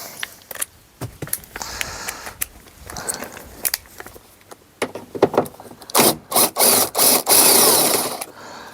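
A power tool drives a T27 Torx screw on a VW Caravelle interior, with short bursts at first, then a series of loud, close, sustained whirring runs near the end.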